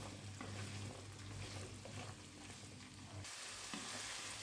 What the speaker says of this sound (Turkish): Böyle en taze olanlarını yeşil yeşil çabuk pişsin diye bir iki karıştıra karıştıra kavuracağım.